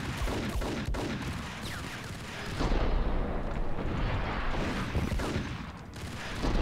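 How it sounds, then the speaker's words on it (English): Dense, continuous roar of Ingram submachine gun fire in the video game Max Payne, loud and sustained with rolling bursts and no talking. "Especially when you're getting shot by an Ingram."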